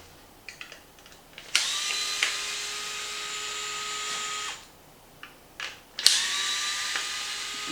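A small power driver backs 2.5 mm screws out of the front shock tower on a Traxxas X-Maxx RC truck in two steady bursts, the motor whirring for about three seconds, pausing, then running again close by, with faint clicks between.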